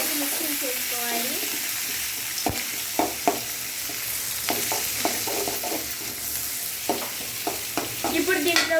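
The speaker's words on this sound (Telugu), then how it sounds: "ఎర్రగడ్డలు వేసుకొని బాగా వేగేంత వరకు మిక్సింగ్ చేసుకోవాలి." Onions fry in a pan on a home stove, giving a continuous close sizzle while a spoon scrapes and clicks against the pan in irregular strokes.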